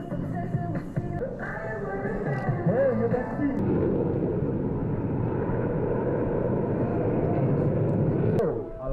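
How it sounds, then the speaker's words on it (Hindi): Sukhoi Su-30 fighter jets pass over Port Blair during an air display, a loud, steady jet roar that swells and holds across the whole stretch with no talk over it. "पोर्ट ब्लेयर के आसमान में सुकोई 30 लड़ाकू विमानों ने अपने शानदार प्रदर्शन से लोगों को मंत्रमुग्ध कर दिया"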